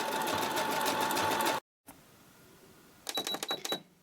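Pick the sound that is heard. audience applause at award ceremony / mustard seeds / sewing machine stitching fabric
sewing machine stitching fabric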